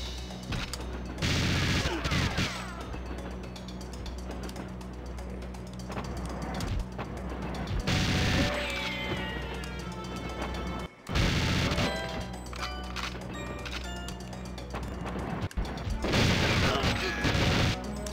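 GoldenEye gunfire on Nintendo Switch: repeated bursts of shots and crashing impacts come in loud clusters over a continuous game backdrop, with a few quieter gaps between volleys.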